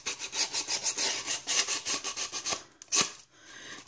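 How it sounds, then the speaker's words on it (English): Decorative paper scraped along the edge of a wooden board, a quick run of rhythmic rasping strokes up close, then a pause and a final sharp scrape. "You scrape on the line."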